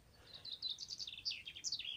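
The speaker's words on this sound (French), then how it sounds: "Avec les bruits de la nature. Les oiseaux." Birds chirp and sing in quick, high twittering phrases, fairly close, over a faint low outdoor rumble.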